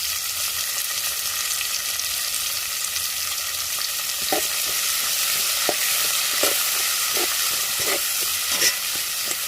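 Green chilies and garlic sizzle steadily in a hot pan, a continuous broadband frying hiss with occasional stirring clicks and scrapes in the second half, close and fairly loud with no talking.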